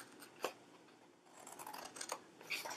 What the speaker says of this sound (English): I'm just cutting a little bit from each side of that score mark.